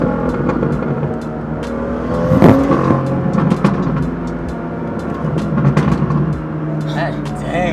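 A tuned, modified car engine revving hard with crackling exhaust pops, loud and close, with surges in intensity; people talk over it.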